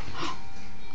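A dog gives a short, whining whimper close by, one brief vocal burst that quickly trails off, with no talk over it.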